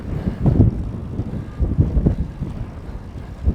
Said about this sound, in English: More wind.